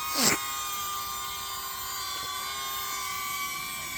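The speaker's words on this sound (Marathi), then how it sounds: "आता बघा आम्ही ड्रोन उडवतो" A steady high-pitched motorized whine hums continuously, like a small drone hovering nearby at Raigad Fort, after a brief sharp noise at the start.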